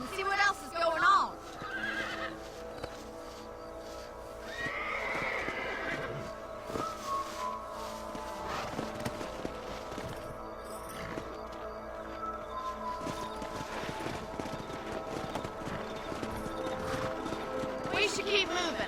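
Horses neigh and whinny loudly in Red Dead Redemption, with hoofbeats galloping and clip-clopping throughout, several whinnies in the first seconds, then continuous running hooves, ambient game sound and occasional voices.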